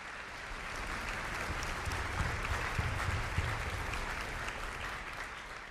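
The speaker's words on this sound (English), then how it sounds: "let's give our parents and family members one more round of applause." Sustained audience applause for parents and family members at an honor orchestra event, a steady dense wash of clapping lasting several seconds at moderate loudness.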